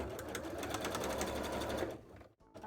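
A sewing machine runs in a fast steady rhythmic chatter of needle strokes, close and loud, then stops abruptly with a brief mechanical clunk near the end.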